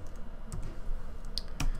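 Brief, soft keyboard typing on a computer, a few scattered clicks over steady background hiss.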